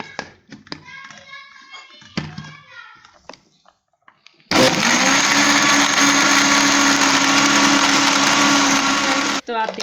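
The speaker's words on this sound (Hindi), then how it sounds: "और अब हम इसे अच्छे से ब्लेंड कर लेंगे।" A blender whirs loud and steady for about five seconds, churning mint lemonade with half a cup of sugar, two cups of water and ice cubes, after a stretch of someone talking with soft kitchen sounds.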